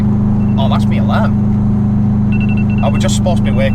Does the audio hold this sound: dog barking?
no